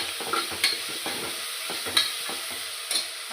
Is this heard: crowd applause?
no